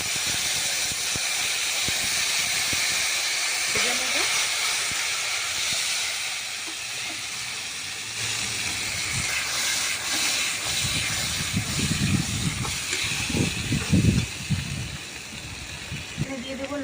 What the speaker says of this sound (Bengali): আমার কোড়া গরম হয়ে গেছে এর মধ্যে আমি দিয়ে দেবো একটু পাঁচফোড়ন